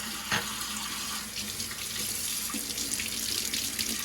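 Water runs from a tap into a sink, a steady close splashing hiss, with a brief knock near the start and the flow continuing unbroken to the end.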